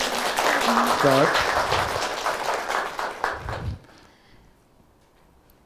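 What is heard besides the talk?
audience applause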